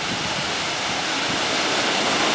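Mackenzie Falls in the Grampians roars as a steady broadband rush of falling water, continuous and fairly loud throughout, with no voices over it.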